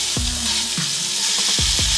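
Food sizzling in a frying pan with Blue Band margarine, a continuous loud crackle and hiss close up, with a few soft scraping stirs breaking through.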